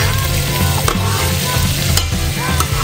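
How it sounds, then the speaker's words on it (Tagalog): Annatto powder sizzles loudly in hot oil, a steady dense crackle with a few brief scraping stirs, alone and close. "Kasi ilagay na natin sa mainit na mantika yung ating annatto powder or aswete na powder."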